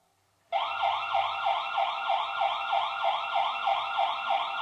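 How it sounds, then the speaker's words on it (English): A wireless security camera's electronic alarm siren starts suddenly and wails in fast, repeating up-down sweeps, loud, close and steady, with no voices. "It warns us that the siren's decibel level is very high and might disturb the neighbors."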